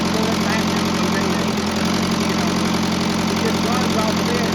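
An International Harvester 574 tractor engine with a fuel injection pump problem runs steadily at a single speed. It makes a loud, close, continuous rumbling drone with a knocking texture throughout.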